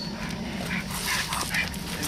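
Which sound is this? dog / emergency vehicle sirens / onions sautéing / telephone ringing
dog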